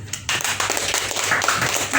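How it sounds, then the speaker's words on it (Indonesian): A church congregation clapping hands during a sermon, a sustained burst of many overlapping claps that starts abruptly and fills the room for about two seconds. "Berikan tepuk tangan."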